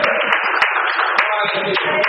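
A church congregation claps hands in praise during a worship service, steady sharp claps mixed with voices throughout.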